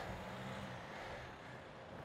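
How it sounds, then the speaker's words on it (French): A truck passes on a windy road, heard from a bicycle ride, as a steady, fairly close broadband roar of engine and tyres that slowly eases off over about two seconds. "Le camion."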